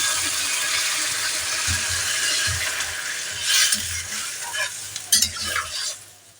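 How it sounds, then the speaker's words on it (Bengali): Water poured into a pan of frying pointed gourd and prawns: a loud steady sizzle with stirring clinks, flaring into sharper bursts near the end as the liquid hits the hot oil. "এবার আমি জল দিয়ে দিলাম।"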